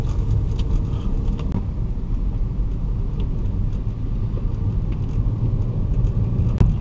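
A car rolls along a barangay road at a gentle pace, its steady low engine and tire rumble filling the cabin evenly, with faint clicks and rattles on top.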